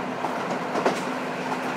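A KiHa 54 diesel railcar runs on a limited express between Horonobe and Wakkanai in Hokkaido, giving a steady loud rumble with a sustained engine drone and faint rail clicks, with no talking.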